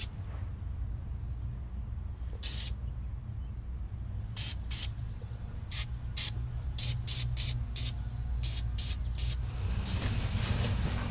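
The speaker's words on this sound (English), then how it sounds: "Just gonna spray all this" Repeated short bursts of aerosol electrical cleaner sprayed under a car near the alternator, each hiss lasting a fraction of a second, coming faster and closer together toward the end over a low rumbling background.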